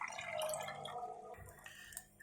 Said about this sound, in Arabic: طبعا انا هضيف لها بقى المية السخنة كده، انا مسخنه لها مية